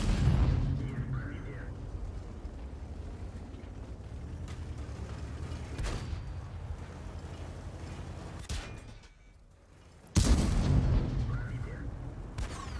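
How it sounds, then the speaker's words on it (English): Artillery fire in the World of Tanks tank game, with several distant booming impacts spaced seconds apart over steady engine rumble, then a loud close blast near the end, while a player talks intermittently. "Yes. Artillery."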